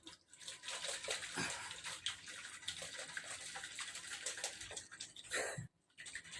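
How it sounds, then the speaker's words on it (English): A sealed bottle of water with moringa is shaken hard, producing continuous sloshing and splashing up close that stops briefly near the end before resuming. "make sure to seal the bottle. Okay, and shake it."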